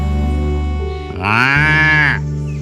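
Cartoon buffalo lowing, a single long, loud, tonal moo that swells in the middle and fades, heard alone and close.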